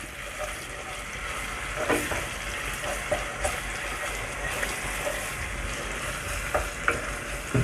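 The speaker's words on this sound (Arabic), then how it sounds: "هنقلب تقليبة كده، هنقلب تقليبة." Rice being stirred in a pot while it fries, a steady soft sizzle broken by repeated scraping and clinking of the spoon at close range, with no one talking.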